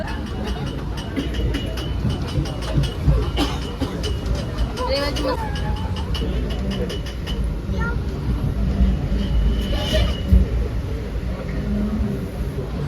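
Inside a moving Mumbai local train heading toward Panvel, a continuous rumble and rattling clatter of the carriage runs throughout, with people talking nearby over it.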